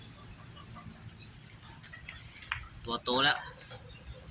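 Bantam chicks hatched in an incubator give a few high, thin peeps, the loudest bursting out near the end, while someone talks quietly nearby.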